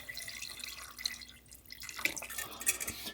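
Water poured into a pressure cooker over chicken for a concentrated stock, about a litre, gives soft splashing and dripping with a few brighter drops, fairly quiet and steady throughout.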